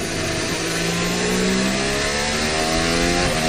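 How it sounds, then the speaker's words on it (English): A Mercedes Formula 1 car accelerates through the first sector during 2023 Miami Grand Prix free practice, its high engine note rising steadily in loud, continuous pitch sweeps with no pauses. "The sound you're hearing is George Russell coming through the first sector"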